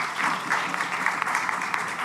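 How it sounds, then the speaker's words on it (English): Audience applause at a participatory democracy conference, a brief burst of scattered clapping at moderate loudness. "An applause to our audience"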